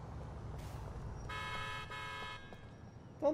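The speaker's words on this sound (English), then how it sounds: "Don't honk at me." A car horn honks in the Grand Theft Auto 4 video game on the streets of Liberty City, one sustained blare lasting about a second over low traffic rumble.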